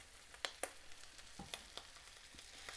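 Ketchup is stirred into a sweet-and-sour vegan dhansak, giving a soft sizzle from the pan with scattered sharp clicks and taps of the spoon over a couple of seconds.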